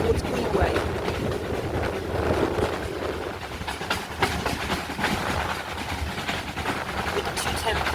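Great Western tank locomotive 4247 works along the Paignton and Dartmouth steam railway toward Greenway, a continuous rumble and rhythmic wheel clatter close by, with sharper bursts of exhaust and a voice at times over it.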